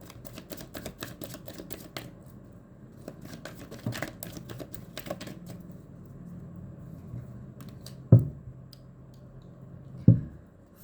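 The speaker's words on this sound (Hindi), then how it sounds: "फाइनल शफल बाबा जी" Tarot cards being shuffled during a reading, a steady run of soft papery riffling and ticks, with two sharper knocks near the end as the deck is tapped down.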